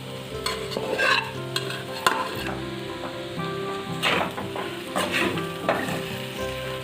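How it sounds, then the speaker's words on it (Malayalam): Fried beef goes into masala in a pan, a loud steady sizzle with bursts of scraping and stirring and a sharp clatter near the two-second mark, heard close with no talking. "ഇനി നമുക്ക് ഇതിലോട്ട് ബീഫ്, നമ്മൾ നേരത്തെ ഫ്രൈ ചെയ്ത് വെച്ചിരിക്കുന്ന ബീഫ് ആഡ് ചെയ്ത് കൊടുക്കാം."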